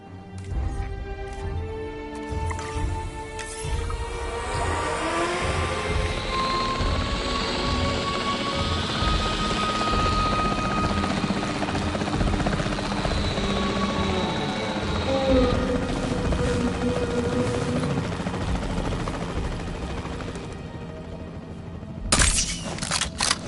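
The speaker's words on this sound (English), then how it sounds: "The priority needs to be tranquilizing it with the capture team chopper." The capture team helicopter in the dinosaur park game Jurassic World Evolution 3 makes a sustained, loud whirring rotor drone with game effects layered over it, and it cuts off sharply at the end.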